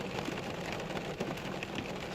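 Steady rain falls outdoors on a rainy day, a continuous soft hiss of drops on surfaces with no gaps, moderately quiet and even throughout.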